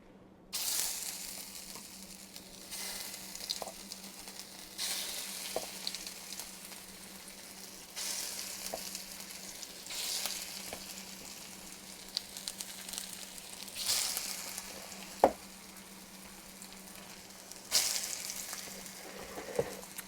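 Canned potatoes sizzle and crackle steadily in hot oil in a skillet, a continuous close frying hiss with a few soft stirring scrapes and clicks.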